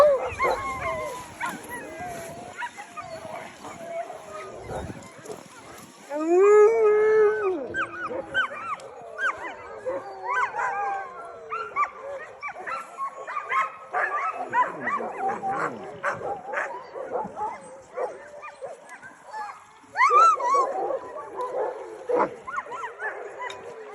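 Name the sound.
Iditarod sled dogs barking and howling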